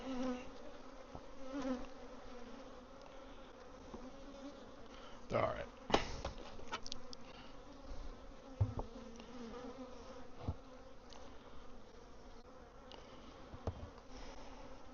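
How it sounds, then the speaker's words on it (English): A close, constant drone of honeybees buzzing during a hive swarm check, with handling knocks and rustles around it and a brief spoken word near the middle. "I dropped some bees on the ground."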